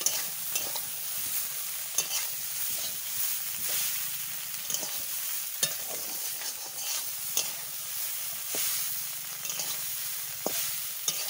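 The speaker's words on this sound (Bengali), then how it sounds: "চাউমিন দেওয়া হয়ে গেছে, এবার একটু ভালো করে একটু ভাজিয়ে নেব।" Chowmein noodles stir-fried in a pan, with a steady broadband sizzle throughout and repeated sharp scrapes and clacks of a utensil against the pan, fairly close and alone without talk.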